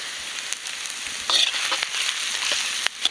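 Chopped onions and green chilies frying in cooking oil for a village-style pork gravy, a steady close sizzle and crackle with a few sharper pops, no voices.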